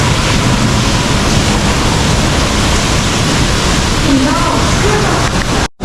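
Loud, steady rush of water pouring and overflowing, a continuous broadband roar with no break until it cuts off abruptly at the end.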